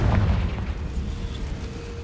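A Confringo fire spell exploding in the video game Hogwarts Legacy, a deep booming blast that rumbles and decays over about two seconds.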